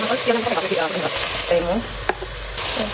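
Garlic and cumin paste sizzling in a hot pan for a meat and mung dal curry, with steady frying hiss and a few stirring scrapes, close and fairly loud, no talking.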